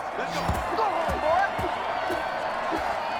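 A stadium crowd in the football video game Madden 21 roars with a steady wash of cheering, loud and sustained, under a commentator's voice and occasional thumps.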